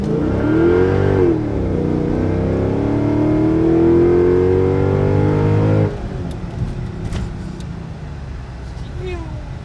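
A supercharged Mercedes E55 with the M113K engine pulls hard from inside the car, a loud rising engine note climbing for several seconds before the throttle lifts to a quieter cruise with faint voices.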